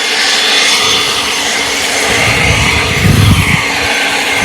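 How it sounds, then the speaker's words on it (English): A handheld blower clears loose dirt and stones out of cracks in a driveway, giving a loud, steady roar that holds for the whole stretch with a low rumbling surge toward the end. "with this blower, we're going to blow all the loose dirt"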